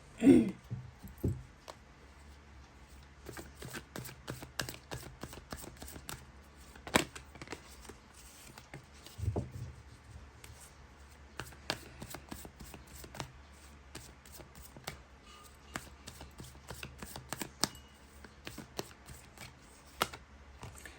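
Tarot cards are shuffled and drawn, a soft run of quiet papery flicks and taps at close range, sparse and irregular, with no talking.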